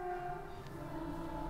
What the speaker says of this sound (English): That's a train passing.